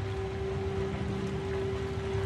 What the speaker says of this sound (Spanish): Está lloviendo a mares ahora, por lo que parece,